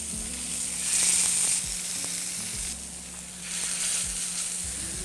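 Steaks searing in a skillet preheated on medium-high with a tablespoon of grapeseed oil, a steady loud sizzle and crackle running throughout with brief swells of spitting fat.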